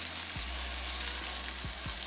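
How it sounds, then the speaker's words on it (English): French toast fries in a pan with a steady, close sizzle throughout, broken by a few faint low thumps or scrapes; no one speaks. "If you have a square pan, that's probably more ideal for frying your French toast."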